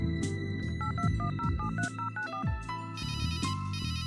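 Telephone ringing after a number is dialed in the adventure game Runaway: A Road Adventure, with short dial tones followed by repeated electronic rings playing steadily and clearly with no talk.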